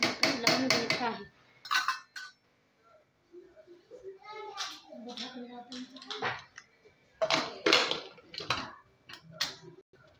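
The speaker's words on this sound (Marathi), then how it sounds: "आता मी झाकण लावून घ्यायचं आहे।" Metal clatters and clinks as the lid goes onto a pressure cooker of khichdi, several sharp knocks in bursts, close by, with someone talking between them.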